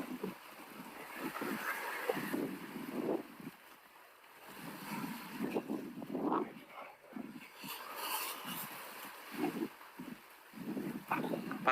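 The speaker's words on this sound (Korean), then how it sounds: "오늘 바람 너무 시원하다" Wind blowing outdoors on a fishing boat during float fishing for opaleye off Geoje, a steady rushing gust with water and boat noise, with people talking over it.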